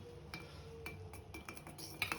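A spoon clinks against a pot of ginger tea, several light metallic taps and scrapes spaced irregularly, close and fairly soft, with no talking.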